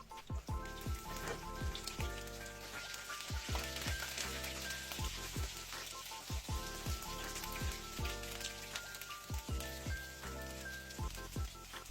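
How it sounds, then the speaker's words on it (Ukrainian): Zucchini fritters sizzle and crackle steadily in a covered pan over low heat, with soft pops and spits and faint clinks throughout, no talking. "Смажимо на маленькому вогнику під кришечкою до золотистої скоринки."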